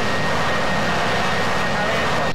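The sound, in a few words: military aircraft engines flying, from a video game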